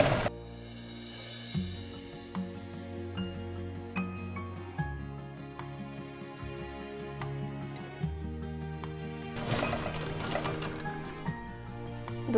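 A sewing machine stitches a folded half-inch strip of old denim jeans fabric for a handmade bag, its light rhythmic ticking running steadily under tonal background music.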